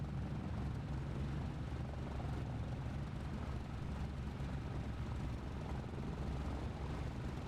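A general-aviation propeller plane idles steadily in a flight simulator game, a continuous low engine drone with no breaks, heard alone without talk.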